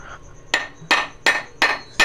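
Five sharp, ringing hammer strikes at a steady pace, close by, with no talking.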